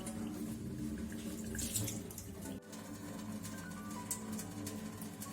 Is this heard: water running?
yes